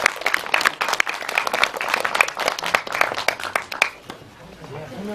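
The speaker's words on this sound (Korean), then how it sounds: "좋은 영화 만들어주신 배우 감독님께 박수 한번 드립니다." An audience at a film Q&A screening at CGV Apgujeong claps in a dense burst of applause for the actors and director, lasting several seconds before fading out into quieter room sound.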